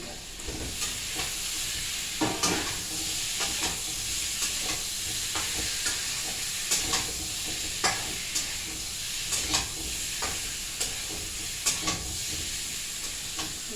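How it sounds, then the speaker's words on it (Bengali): Fried eggs are sautéed in a pan with spices, a steady sizzle broken by repeated spatula scrapes and taps at an irregular rhythm, close and moderately loud, with no voices. "এই ডিম ভাজা ডিমগুলো নিয়ে সাতলা গরম"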